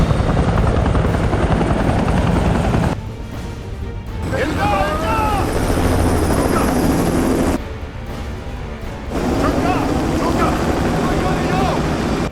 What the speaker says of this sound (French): Où en sont les hélicos? Ils sont en train de se poser.